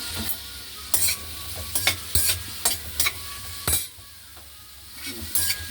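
Ingredients frying and being stirred in a pan until browned, with a steady sizzle broken by repeated sharp scrapes and clinks of the spatula, close up and without speech.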